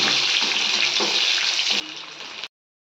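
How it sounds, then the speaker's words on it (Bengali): Pointed gourd (potol) frying in a pan, a loud continuous close sizzle with faint stirring and a brief watery trickle before it drops in level and cuts off abruptly. "ভেজে নেবো ভালো করে।"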